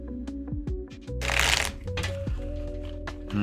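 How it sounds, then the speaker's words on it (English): A deck of tarot cards is shuffled by hand in a short burst of riffling flutter, close and clear, with soft tonal music playing underneath. "these cards do not want to shuffle"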